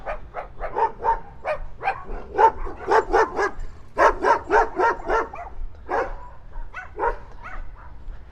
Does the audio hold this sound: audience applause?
no